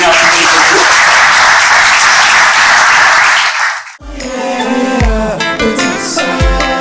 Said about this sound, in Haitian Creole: Merci Winnie, applaudissements encore pour Winnie.